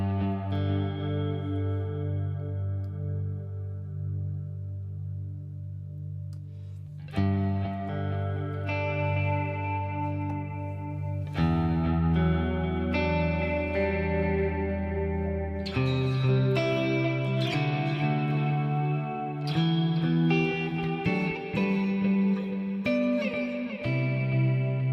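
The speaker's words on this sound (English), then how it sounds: "If I bring up the modulation depth, you can really hear it." Electric guitar through a Katana amplifier plays a slow series of chords and picked notes with a deep, swirling chorus modulation, ringing and spacious, with no voices.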